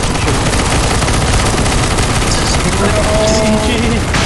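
Gunfire in a CSGO zombie escape round on the surf facility map, loud dense continuous automatic fire from several guns without pause, a wall of shooting with a faint voice buried underneath.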